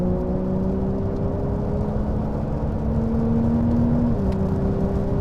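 A 2021 Porsche 992 911 Turbo drives at high speed on the Hockenheimring, its engine a steady loud whir with rising tones heard from inside the car, and no voices.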